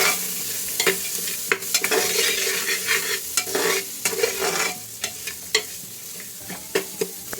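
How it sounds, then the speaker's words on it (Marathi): Flat beans (ghevda) sauté in hot spice masala with a little salt, a steady close sizzle broken by repeated scraping stirs of the spoon against the pan, with no voices. "त्यावर थोडंसं मीठ घालून आणि मस्तपैकी हे परतून घेऊ."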